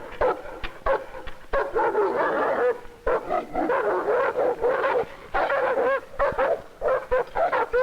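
Guard dogs kept in cages at a prison bark loudly and repeatedly in rapid overlapping bursts, close by and with no talk.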